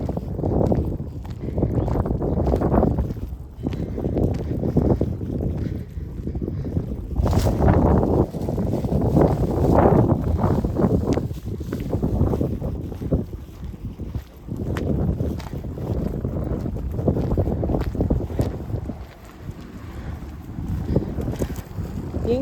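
Strong wind buffets a microphone outdoors on a walk with a dog, a continuous loud low rumble that surges and dips for over twenty seconds.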